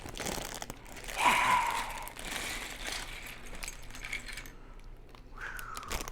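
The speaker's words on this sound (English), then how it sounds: "now we get to do the crinkling again" A plastic bag of Lego parts for the Mars Research Shuttle set 60226 gets torn open and crinkled up close, a bright crackling burst followed by lighter rustles and small rattles of pieces inside, with no talking.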